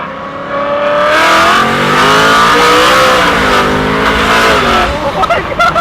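A supercharged BMW M3 with a straight-pipe exhaust revs hard and loud, the engine climbing and falling through several sustained pulls with a raspy, roaring tone, heard close with no talking.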